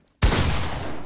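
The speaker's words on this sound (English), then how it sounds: "Two SMG shots." Submachine gun fire in a video game: a sudden loud burst that hits hard and then rings on as a dense, sustained roar, close and alone with no talking.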